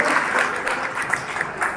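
An audience claps steadily for children who have just sung at a Kannada Rajyotsava celebration in Santosh Nagar, Hubballi, a moderate, even patter of many hands with no voices over it.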